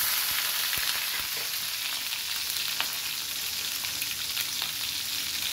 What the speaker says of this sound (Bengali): সম্বারা ফোড়ন দিয়েছি